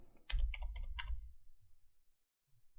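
Close, quiet keystrokes on a computer keyboard as a short word is typed into the Windows 11 command prompt, a quick burst of about five clicks that then stops.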